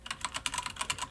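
Rapid keystrokes on a HyperX Alloy mechanical keyboard fitted with red switches, about a dozen crisp clicks in an uneven quick rhythm, close and moderately quiet with no talking.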